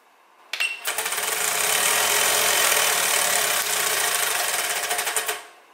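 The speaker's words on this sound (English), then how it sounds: "I wonder what would happen if we just started the motor at 120 volts." A homemade Lego motor driven at 120 volts buzzes loudly for about five seconds, a harsh rapid rattling whir with a sharp start and an abrupt cutoff, alone and close.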